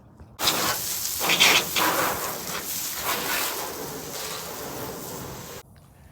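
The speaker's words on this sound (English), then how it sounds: "So we'll spray it all down everywhere" A continuous hissing spray of cleaner onto a race car's frame starts abruptly, holds steady for several seconds with slight pulses, then cuts off.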